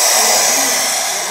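Starter motor cranking an engine whose exhaust is blocked, a steady loud broadband whir running continuously through the short clip with no voices.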